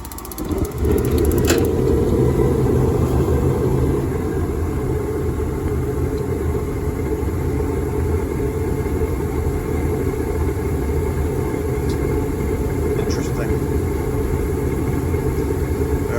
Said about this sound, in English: I got my thermostat wired, and I just heard the furnace kick off.